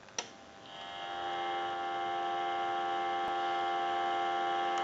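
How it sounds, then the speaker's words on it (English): A steady telephone dial tone from a GE 6.0 27909 cordless phone under repair comes in through an amplifier after a brief click, then holds a constant, clean hum on its own until the end. "And we'll give you some dial tone."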